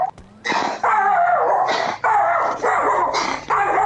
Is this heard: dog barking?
yes